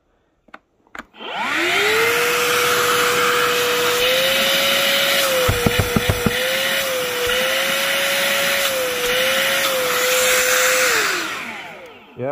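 A Hilti cordless vacuum's motor whirs up to a steady, loud drone, holds for about ten seconds with a few brief clicks, then winds down.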